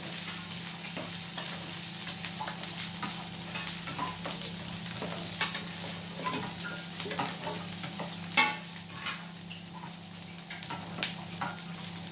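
Garlic for chutney sizzles steadily as it is stirred in a hot pan, with a continuous frying crackle broken by scattered clicks and scrapes of the spoon against the pan, fairly close and with no talking.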